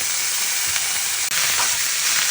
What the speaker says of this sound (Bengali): রান্না চলছে এখানে।